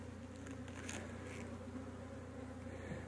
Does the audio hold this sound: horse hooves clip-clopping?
no